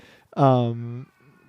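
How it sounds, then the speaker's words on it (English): A cat lets out one loud, drawn-out, strained meow lasting most of a second, close and harmonically rich, with faint talk before and after. "It doesn't meow so much as it just like hollers in agony."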